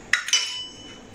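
A metal utensil clinks twice against a bowl while baba dough ingredients are stirred, two sharp bright taps followed by a short fading ring.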